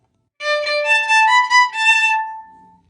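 A solo violin plays Twinkle Twinkle transposed up a fourth to start on D, a string of clean bowed notes that climb and ease back down, close and unaccompanied.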